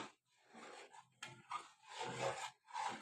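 A spoon stirs rice kheer in a pot over low heat, giving soft scraping and rubbing strokes in several short bursts with brief pauses between.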